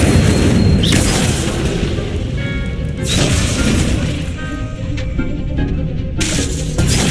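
An Incendio fire spell is cast in the Hogwarts Legacy video game, producing loud whooshing bursts and booms over continuous game ambience.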